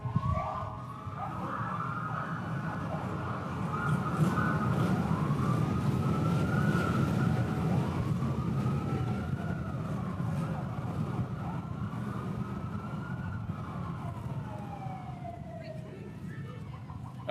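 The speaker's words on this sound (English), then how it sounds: "that was the Village of Mamaroneck motorcycle police escort" A siren from the Village of Mamaroneck motorcycle police escort at a St. Patrick's Day parade, wailing repeatedly at moderate distance over crowd and engine noise, rising and falling in long sweeps that fade slightly toward the end.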